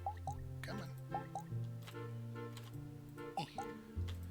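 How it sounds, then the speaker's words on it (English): Watering can sprinkling plants in the farming game Moonstone Island, heard as a run of light, bright droplet blips that repeat in quick bursts over steady game music. "let's water the plants"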